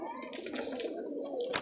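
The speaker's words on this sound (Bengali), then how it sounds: "হাত বাজির কবুতর এটা" A Rajshahi local Geribaj pigeon gives soft, low cooing in a short close-up burst, with a faint high chirp near the end.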